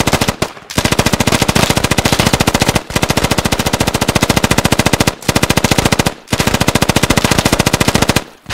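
Sustained machine gun suppressing fire in the video game Squad: long loud bursts of rapid, evenly spaced shots, broken by a few short pauses, with no voices over it.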